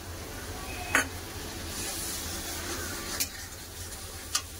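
Ground cumin, turmeric and chilli powder sizzle with a splash of water in a pan, with a steady low frying hiss and three sharp clinks of a spoon stirring against the pan.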